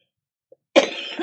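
A single short, rough cough after a moment of silence, close and fairly loud.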